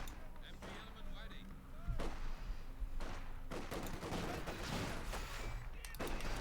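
Rapid bursts of machine-gun fire from an MG42 mixed with heavier booms and scattered gunshots in the WWII strategy game Company of Heroes 2, dense and continuous with brief quieter gaps.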